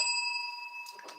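A small bell rings with a sustained, bright metallic tone that slowly fades, followed by a couple of soft clicks near the end.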